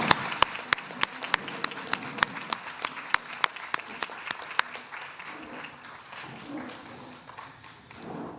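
Audience applause honoring the trustees at an ICP event, starting as a series of sharp, evenly spaced claps that build into a sustained round of clapping before fading into a softer crowd murmur.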